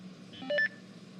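A phone gives a brief electronic dial-tone style beep, a short burst of pitched tones lasting well under a second over a quiet, steady background hum.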